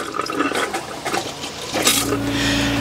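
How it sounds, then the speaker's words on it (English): Water pumped out of a travel trailer's hot and cold plumbing lines, a gushing, sputtering flow with air bursts, rising into a louder surge near the end. "pump out all the water that's in the system, hot and cold, until all you get is air"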